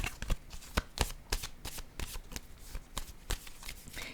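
Playing cards shuffled, handled and laid down on a table during a tarot-style card reading, a close, steady run of papery riffles and sharp flicks with no voices.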